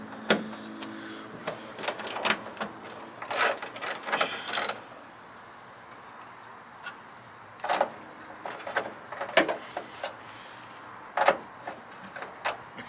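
Ratchet wrench backing out the 10 mm bolts on a Toyota Celica hood scoop, with bursts of close, quiet clicking separated by pauses.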